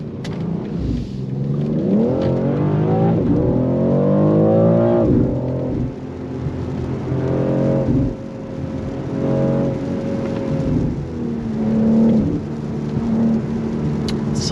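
A BMW X4 M Competition engine revs and accelerates hard under throttle, close and loud, with repeated rising pitch sweeps as gears change and brief dips between pulls.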